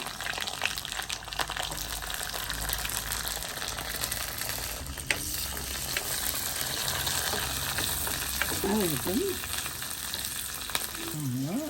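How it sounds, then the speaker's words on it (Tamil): Onion frying in hot oil for a spicy chutney gives a steady, close sizzle that runs the whole time, with a few brief squeaky tones near the end. "ஒன்றா போட்டு பொரிச்சு எடுப்போம். உள்ளி போடுவோம்."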